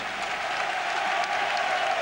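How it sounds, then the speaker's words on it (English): A football stadium crowd in Stuttgart gives a sustained, loud ovation with dense applause during a 1992-93 UEFA Champions League first-round match against Leeds United. "Getting a great ovation from the Stuttgart crowd"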